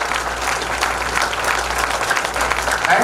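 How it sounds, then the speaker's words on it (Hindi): Audience at a government scholarship function for Class 12 toppers applauds steadily, a dense wash of clapping from many hands sustained throughout, loud and close. "आपके फायदे के लिए ताली बजवा रहा हूं"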